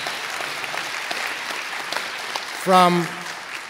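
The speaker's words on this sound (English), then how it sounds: "Now that deserves some applause right there." Audience applause fills the hall at the 2022 Faith International University and Seminary commencement, a steady wash of clapping throughout, with a single voice briefly speaking near the end.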